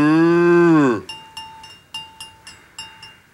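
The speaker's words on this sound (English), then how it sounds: "cow." A cow gives one long, loud, low moo that rises and then drops off, followed by a run of bright, evenly spaced chime-like bell tones ringing out alone.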